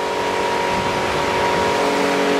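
Loud, steady drone of a Real Craft 470 motorboat engine on the Pechora River, running continuously at even pitch, with wind and water noise and no talking.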